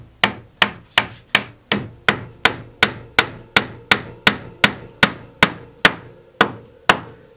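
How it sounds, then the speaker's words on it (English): Hammer striking a nail into wood while fitting a DIY closet in a master bedroom, about sixteen sharp, evenly spaced blows ringing out close and loud with no talk. "I'm just going to put in a nail here."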